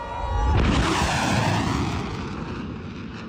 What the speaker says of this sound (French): on peut voir un jet des Blue Angels passer le mur du son